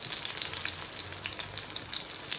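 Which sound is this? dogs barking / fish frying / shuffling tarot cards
fish frying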